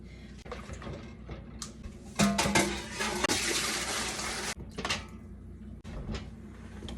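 Water pours into a large canning pot loaded with cold-packed jars, a close gushing splash that starts abruptly, runs steadily for a couple of seconds, then trails off into scattered drips and clatter.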